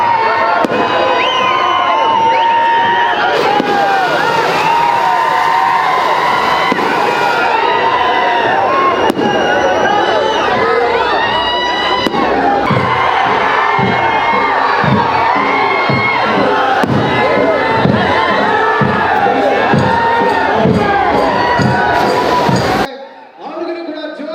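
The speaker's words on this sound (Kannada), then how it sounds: "ಚಪ್ಪಾಳೆ" A large crowd at a foundation-stone ceremony addressed by Karnataka Chief Minister Siddaramaiah in Manvi cheers and claps loudly and continuously, with shouts and whistles mixed in, ending abruptly near the close.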